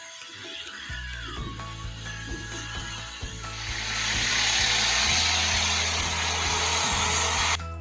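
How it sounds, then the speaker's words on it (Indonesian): Propeller airplane engine drone inside an edited video clip, steady and moderately loud, rising to a fuller roar about halfway through, with a rhythmic low thumping running underneath. "Nah ada pesawatnya"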